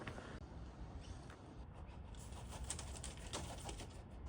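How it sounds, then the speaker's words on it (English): A bird, likely a pigeon or dove, moves and calls faintly in roadside bushes by a fence, with soft cooing and rustling over steady outdoor background noise. "Oh, there's a bird."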